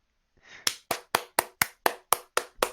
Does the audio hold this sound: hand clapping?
yes